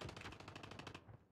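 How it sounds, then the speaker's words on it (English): Rapid automatic gunfire from the Call of Duty Mobile video game, a loud, evenly spaced burst of about ten shots that stops abruptly after a second, with no talk over it. "Did you see me shooting him, Ace?"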